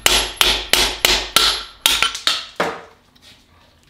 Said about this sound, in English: All right, Stav, can you give me the more heavy-duty hammer?